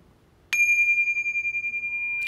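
A small handbell rings once before a prayer, a bright sustained tone with a sharp strike that hangs and slowly pulses, clear and close in an otherwise quiet room.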